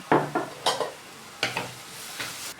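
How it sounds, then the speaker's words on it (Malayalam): A spatula stirs ground masala paste in a pan for fish mango curry, giving about five separate scraping strokes with soft sizzling between them, close and distinct. "അരപ്പിൻ്റെ പച്ചമണമൊക്കെ മാറുന്നവരെ നന്നായിട്ട് വഴറ്റിയെടുക്കാം"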